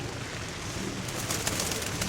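Soft cooing of Kirovohrad pigeons in the background, low and murmuring, over steady outdoor ambience at a fair with faint rustling.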